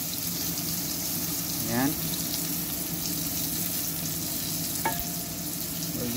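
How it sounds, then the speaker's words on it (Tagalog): Batchoy ingredients fry in oil on a stovetop, a steady close sizzle with a couple of brief squeaks and a clink, while a voice speaks briefly over it. "Lapat lang natin sa mantika sa kalan."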